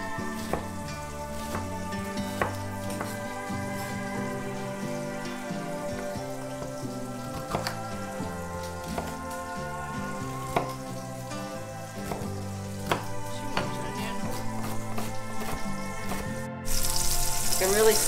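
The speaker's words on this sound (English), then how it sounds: "So you can see that it's starting to sear up." Onions, garlic and carrots sear in a hot pan with a steady dense sizzle and crackle, close and continuous throughout, with a brief louder burst near the end.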